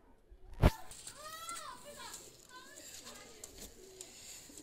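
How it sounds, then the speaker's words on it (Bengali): A pair of Jansera teddy pigeons, sold as Pakistani high flyers, give soft, low cooing after a sharp knock, while voices and what sound like children chatter faintly nearby. "এক পেয়ার জনসেরা টেডি কবুতর নিয়ে আসলাম"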